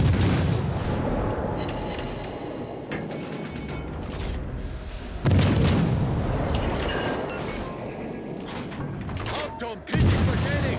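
The Mainz cruiser's guns in World of Warships Legends boom in heavy salvos, two especially loud blasts standing out, over a constant mechanical rumble and rattle of battle.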